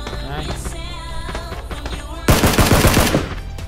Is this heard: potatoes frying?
no